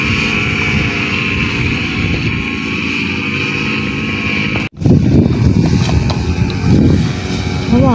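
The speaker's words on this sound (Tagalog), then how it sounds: "malakas ng hangin" Strong wind gusting across open farmland near Mount Arayat, a loud continuous roar buffeting the microphone and swelling into heavier rumbling gusts after a brief dropout, with no speech.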